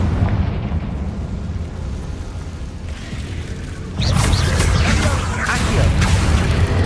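A loud Confringo fire-spell blast in Hogwarts Legacy, a heavy booming burst that swells with crackling debris and rumble, following a steadier noisy stretch of gameplay sound.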